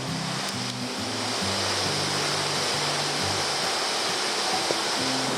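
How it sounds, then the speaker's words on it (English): Rushing water at the second tier of Kanching Waterfall pours in a steady, dense roar that stays close and constant throughout, with faint low tonal hum beneath it. "we arrive at the second tier of this waterfall"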